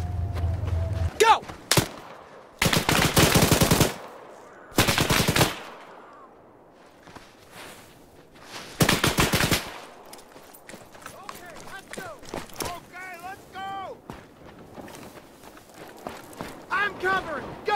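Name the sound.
covering gunfire during a battle reenactment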